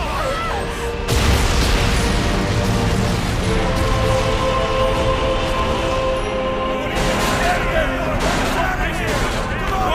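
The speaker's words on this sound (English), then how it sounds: "That's the sound of a building exploding." A massive explosion of a building rumbles and crashes, with dense debris and booming noise rolling on loudly for several seconds.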